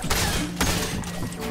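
Gunfire in a shooter video game, a quick cluster of sharp overlapping shots in under two seconds, fairly loud and close, with no talk over it.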